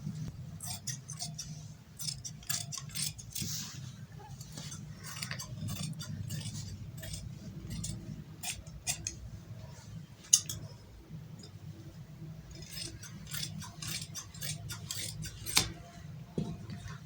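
Scissors snip through fabric while cutting an umbrella frock pattern, giving a series of quiet, crisp, irregular clicks over a faint low hum from the room.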